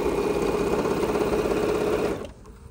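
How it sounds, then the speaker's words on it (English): A sewing machine runs steadily, stitching a fabric strip for a steampunk dopp bag, with a continuous close whirring hum for about two seconds before it stops and falls quiet. "I'm just gonna sew this one until I run out of fabric strip here."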